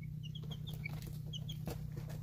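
Young chicks in a home brooder peep and cluck softly over a steady low hum, with short high chirps scattered throughout and no one talking.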